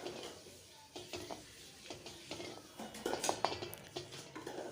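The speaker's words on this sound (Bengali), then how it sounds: "তেলটা খুব ভালো করে গরম হয়ে গেছে, আর মাছগুলোকে একটা একটা করে ভেজে নেব।" Katla fish frying one piece at a time in hot mustard oil in a kadai, giving a steady crackling sizzle with scattered sharp pops and utensil clinks, close up and without talk.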